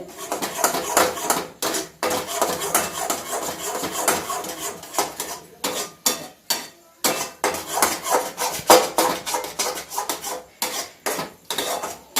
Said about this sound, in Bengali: ভালো করে যতক্ষণ না এটা শুকনো শুকনো হয়ে যাচ্ছে ততক্ষণ এটা ভালো করে নাড়িয়ে নিতে হবে